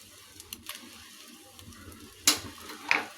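An egg fries in a pan, giving a soft, steady sizzle with occasional louder crackles and stirring sounds, heard alone up close.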